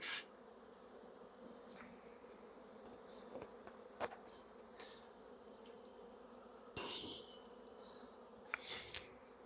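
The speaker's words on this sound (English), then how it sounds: "Try to get all my bees out." Honey bees hum steadily at low volume at a hive, with occasional closer buzzes and faint knocks and rustles breaking through.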